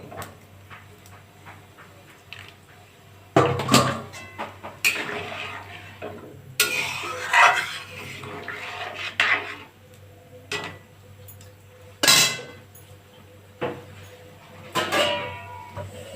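Pieces of elephant-foot yam go into a pot of spicy snakehead fish curry. A metal pot clanks and scrapes in scattered, uneven bursts over a low simmering sizzle, close by, with no talking.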